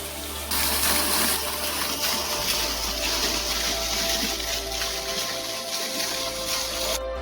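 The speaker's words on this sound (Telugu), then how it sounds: "రాయి మీద నుంచి వాటర్ పడుతుంది చూడండి." The Bennarai hidden waterfall in the Manyam area pours over rock, producing a steady, close rushing gush of water that holds at an even level from start to finish, with no voices.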